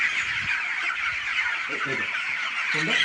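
Twenty-day-old broiler chickens on a poultry farm make a dense, constant chorus of calls, with a few lower voiced sounds breaking through briefly.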